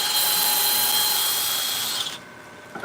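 Power sanding with 80 grit abrasive on turned wood on a lathe makes a close, bright, steady whirring rasp for about two seconds before it stops abruptly, followed by quiet and a small bump.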